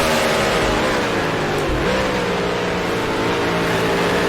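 A 1960s-style F5000 race car in Grand Prix Legends at Lime Rock revs hard as it slides sideways and climbs toward fifth gear, a loud continuous engine drone with a brief pitch dip during the shift.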